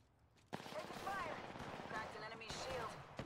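Bursts of gunfire from the video game Apex Legends, sustained over a few seconds with a sharp onset and a steady loud texture, while voices and in-game callouts talk over the shooting.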